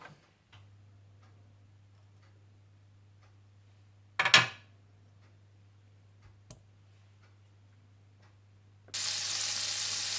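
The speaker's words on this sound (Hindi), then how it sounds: "सबसे पहले आप ऑलिव ऑयल और मक्खन डालकर मीडियम हीट पर गर्म कर लीजिए" Olive oil and butter heating in a pan, a quiet stretch with a low hum and a brief clatter, then a bright, steady sizzle that starts abruptly near the end.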